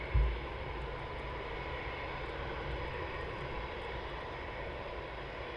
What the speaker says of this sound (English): There he is, taxiing down for Runway 25.